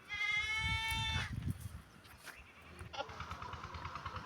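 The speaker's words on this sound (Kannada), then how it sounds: "ಇವು ನಮ್ಮ ಆಡುಗಳು" Goats on a farm bleating: one loud, close, wavering bleat at the start, then quieter shuffling and movement, and a second bleat rising near the end.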